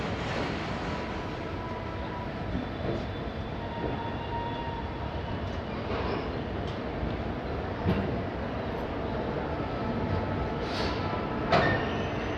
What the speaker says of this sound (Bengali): ফাইনালি ট্রেন হাওড়া স্টেশন পৌঁছালো